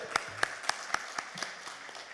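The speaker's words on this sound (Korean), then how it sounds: "우리 할렐루야로 하나님께 영광의 박수 올려드립니다" A church congregation claps in praise at a Korean prayer retreat service, a handful of sparse, separate claps spaced about a quarter second apart, fairly faint and thinning out toward the end.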